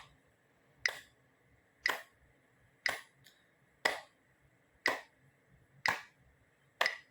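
Single hand claps keep a steady beat during a singing lesson, seven sharp, evenly spaced claps about one second apart in a quiet room.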